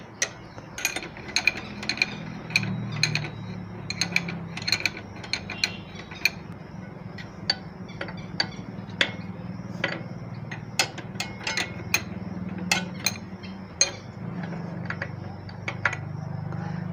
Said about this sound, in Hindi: तो ये ज़्यादा है तो इसको कम करने के लिए हमने इस एडजस्टमेंट नट को खोलना होगा।